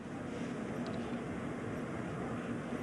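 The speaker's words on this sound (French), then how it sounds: "Pour un atterrissage normal, l'avion traversait le champ de la caméra en 9 secondes environ." A TAM Airbus A320 airliner passes on landing as a steady, broad jet roar that stays loud and unbroken throughout.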